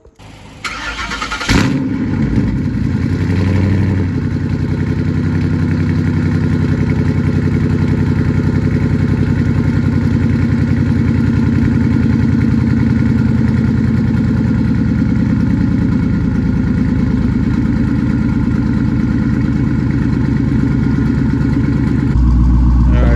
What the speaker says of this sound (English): the car's on, hasn't started in like 4 days, so a little rough start